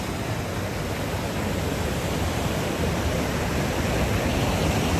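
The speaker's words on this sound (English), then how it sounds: "right by the edge of the waterfall" A waterfall at Bristol Head Peak near Creede, Colorado roars close by as a dense, steady rush of falling water, loud and unbroken throughout.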